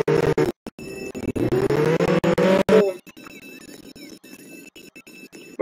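A car in the Roblox Jailbreak game squeals its tires in a loud rising skid over engine noise for about three seconds, then cuts off abruptly, leaving quiet game ambience.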